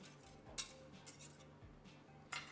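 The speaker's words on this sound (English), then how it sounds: "I mix well together to coat the peas with the sauce." A spoon stirs frozen peas into hot mushroom sauce in a dish, giving a few faint, scattered clinks against the dish over a quiet background.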